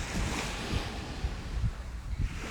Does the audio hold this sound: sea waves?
yes